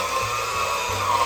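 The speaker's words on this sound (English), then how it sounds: "I'm gonna start by whisking all this stuff together" Gingerbread cookie ingredients are whisked together in a bowl, heard as a steady, fairly loud mechanical whir running unbroken throughout.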